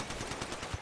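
A quick burst of R-301 rifle fire in the video game Apex Legends: a short run of evenly spaced rapid shots, fairly faint and brief.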